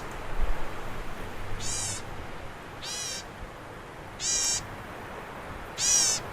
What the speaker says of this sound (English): Now, black-capped gnatcatcher especially has a really strange call.